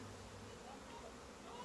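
Honey bees hum in a steady, dense drone inside an open hive box during an inspection, faint and continuous throughout, with no distinct pauses.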